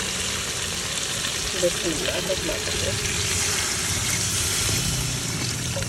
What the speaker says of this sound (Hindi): अभी जो है हम पानी ऐड करते हैं शोरबे के लिए।